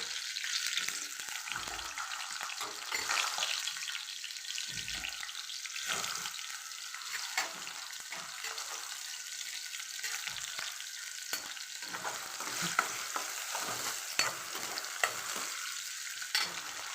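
Potatoes fry in a pan with a steady close sizzle, interrupted by repeated scraping and stirring strokes over about seventeen seconds, with no talking.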